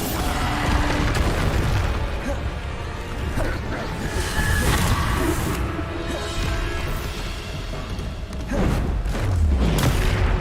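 Bombarda explosion spell blasts during combat in Hogwarts Legacy, on maximum difficulty: repeated booms and crashes layered over continuous mechanical clatter and game tones, dense and loud from start to finish.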